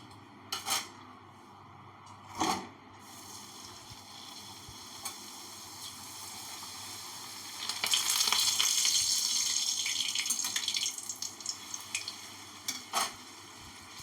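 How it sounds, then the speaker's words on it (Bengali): Luchi, puffed flatbreads, frying in hot oil in a home kitchen, a steady soft sizzle that swells into a louder bubbling stretch, with occasional sharp knocks of utensils. "তেরোটা লুচি ভাজবো, তারপরে আবার একটু আলু ভাজবো"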